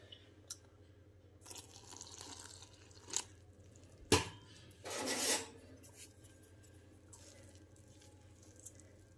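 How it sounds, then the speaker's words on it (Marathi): Gram flour batter with salt and carom seeds stirred in a bowl with a little water, giving soft wet rubbing and scraping strokes and a few sharper clinks, fairly quiet and close with no talking. "त्याच डायरेक्शनमध्ये फिरून आपल्याला हे पीठ हलकंसं बनवून घ्यायचं आहे"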